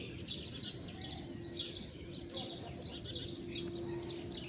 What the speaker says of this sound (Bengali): পাখিগুলো কিচিরমিচির করছে,